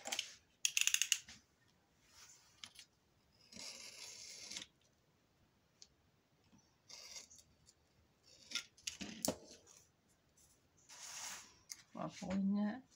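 Scissors trimming excess paper from pages of an autumn-themed scrapbook album, several close, crisp snipping bursts spread across the clip with quiet gaps between, plus handling noise.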